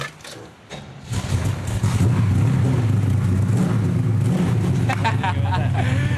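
The engine of a classic Australian touring race car, a Brock Commodore, cranks over and catches, then settles into a loud, rough, lumpy idle with light revving, up close, as people talk briefly nearby.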